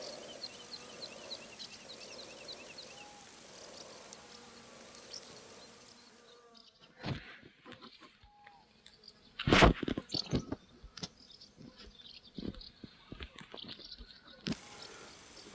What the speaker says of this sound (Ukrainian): Ця бджола збирає нектар.